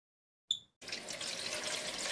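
Water pours steadily from a small decorative fountain in a mansion video game, beginning after a short bright chime, then a soft continuous trickling splash.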